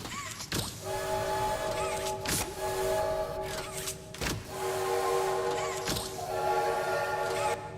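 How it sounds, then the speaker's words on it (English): Train horn in the horror video game Poppy Playtime, sounding in several sharp blasts at irregular intervals over a steady background of the moving train. "How fast do you think I can toot this horn?"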